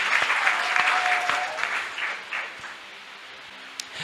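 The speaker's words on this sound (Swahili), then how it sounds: "Basi tupige makofi ya shangwe kwa Bwana." A church congregation claps together in a burst of steady applause that gradually thins and fades out over a few seconds.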